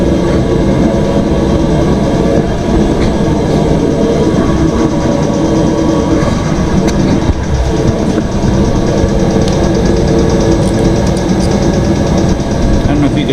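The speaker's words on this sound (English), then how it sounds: "Yeah, the tone of that fuel pump changed." Military tent heater running with its fuel pump humming, a steady loud mechanical drone close by; a person talks over it at times.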